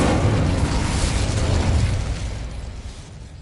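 Incendio fire spell cast in Hogwarts Legacy, a loud roaring whoosh of flame with deep rumbling bursts that holds for a couple of seconds and then gradually fades, close and dominant with no talk.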